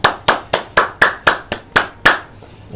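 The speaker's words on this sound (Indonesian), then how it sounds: "Tepuk tangan." Hands clap in a steady, evenly spaced rhythm, about nine crisp, loud claps close by with no voices, followed by a brief pause.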